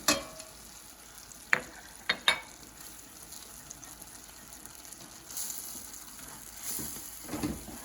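Thick orange chicken glaze with orange zest, ginger and garlic sizzles softly in a pan, broken by a few sharp clinks of a utensil stirring against the pan early on and later by swelling bursts of hiss.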